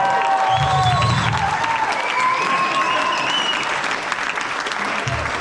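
Applause and cheering fill a theatre crowd at a poetry night at The Byron Theatre, a dense, steady wash of clapping lasting throughout, with voices and whoops mixed in.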